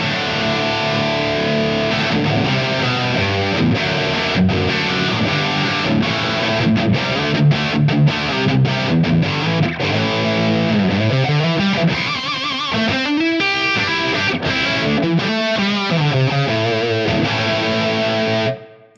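An overdriven electric guitar through a Soldano SLO amp tone plays chords and single-note runs with a gritty, crunchy tone, loud and continuous before cutting off at the end.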